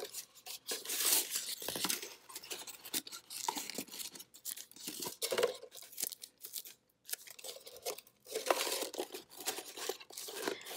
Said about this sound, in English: you can get some bigger pieces of tape and tape down more at once